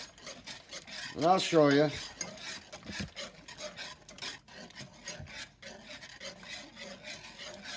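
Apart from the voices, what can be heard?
stirring creamy carbonara sauce with smoked pancetta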